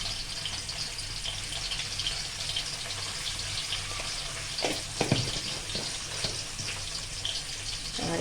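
Onions frying in a pan with a little salt for a Bengali mutton dish, a steady dense sizzle running throughout, fairly loud and even, with a few brief clinks near the middle and no talking.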